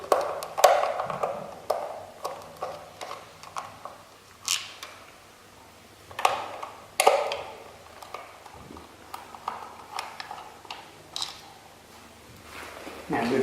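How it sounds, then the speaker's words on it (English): Phillips screws being loosened from the control box of a bike while the front tyre is changed: light, repeated clicks and taps in short irregular clusters, close and fairly quiet. "I'm going to unscrew all these."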